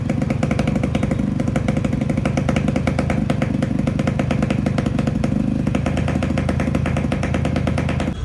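A fully restored Yamaha RX100 motorcycle rebuilt with a 5-speed gearbox runs steadily at idle, its close, loud, rattling engine note holding an even rhythm throughout with no talking.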